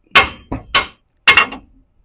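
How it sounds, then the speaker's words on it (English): Several sharp metallic hammer taps on a 2005 Ford F-150 suspension part during ball joint and control arm replacement, two quick strikes then a pause and a few more, close and fairly loud with brief ringing decay. "You can take a little hammer and tap it right here a few times."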